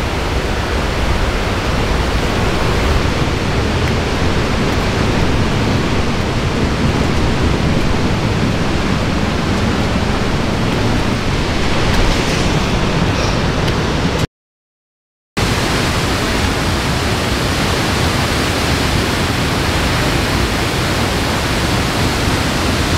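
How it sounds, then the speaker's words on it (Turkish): Palovit waterfall in Rize in the rain, a loud, constant roar of rushing water that fills the whole scene, briefly cutting out before resuming, with no talk over it. "Ama şelalenin suyu."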